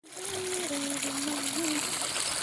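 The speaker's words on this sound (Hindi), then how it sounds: "मिनी झरना" A small waterfall splashes and trickles in a steady rush, with a voice singing a wavering tune over the water.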